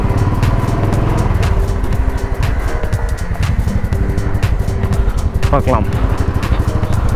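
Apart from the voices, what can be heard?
scooter engine running after warm-up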